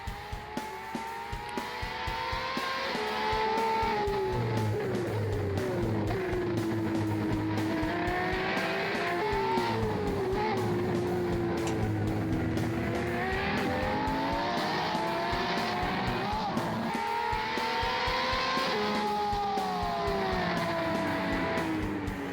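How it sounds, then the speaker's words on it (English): Ferrari 599 XX EVO race car at the Nürburgring GP circuit, its engine loud and continuous as it rises and falls through the gears, with tires squealing while the back end slides. "Back end of the car's starting to slide all over the place."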